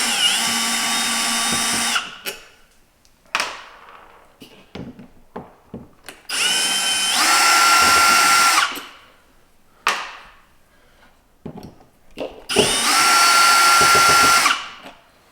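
A power drill backs the screws out of an RV door lock during a keyless entry upgrade, whirring in three sustained bursts of about two seconds each, close and loud, with short clicks and handling noise between them.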